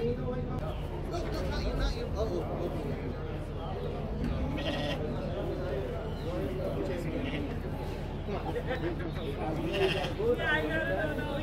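Sheep bleat repeatedly after a livestock auction, several animals calling near and far over a continuous noisy background as people talk nearby.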